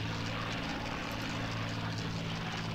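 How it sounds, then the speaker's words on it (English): Propeller fighter planes in a Battle of Britain flight combat video game, Hurricanes and Heinkels, give a steady, loud engine drone with a low humming buzz that holds throughout, with no talking. "Intercept enemy planes over Springgate Depot."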